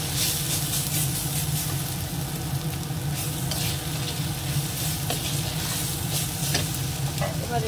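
Prawn curry masala with sugar, salt and chilli powder stir-frying in a pan, giving a steady close sizzle with repeated scraping stirs and occasional clinks throughout, with no talking.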